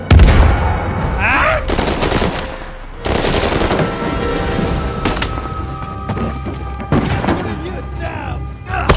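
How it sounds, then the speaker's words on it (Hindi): Gunfire crackles in bursts behind the player during an Uncharted 4 firefight, with heavy thumps and a dense action soundtrack, while someone talks over it. "पीछे कौन गोली मार रहा है?"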